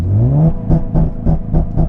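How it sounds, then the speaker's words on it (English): A Nissan Z engine revs during launch control in first gear, a loud close rising rev followed by quick rhythmic pulsing bursts as the limiter bounces. "First gear, clutch in all the way, stab the throttle."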